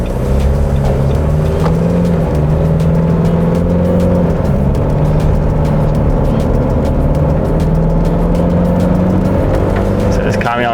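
A Nissan NP300 ute fitted with a tray and canopy pulls onto the M1 motorway, its engine droning steadily and loudly with continuous road and wind rumble throughout.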